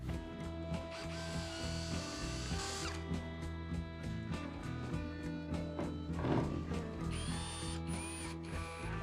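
Power drill boring holes for shortened confirmat screws in a DIY workshop workbench build, a ratcheting, whirring drive running close and steady with a brief surge midway, no voices.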